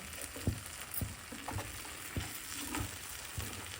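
Garlic masala pav roasting in a hot pan, a steady soft sizzle with occasional light taps and scrapes as the bread is turned.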